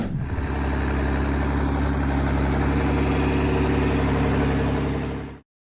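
A vintage Ford 8N tractor engine idles with a steady, throbbing low chug, loud and close, before cutting off abruptly at the end.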